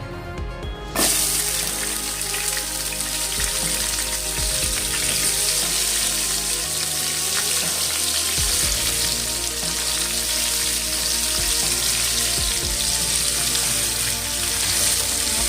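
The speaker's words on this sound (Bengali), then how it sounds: "এবার ডাটাগুলোকে তেলের মধ্যে দিয়ে ভেজে নেব একটু" Amaranth stems sizzle and fry steadily in hot oil in a wok, a loud continuous crackling hiss that starts abruptly and holds throughout with no voices.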